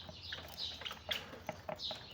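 Several Java sparrows chirp and tweet in short, bright calls scattered across the clip, moderately close over a soft background.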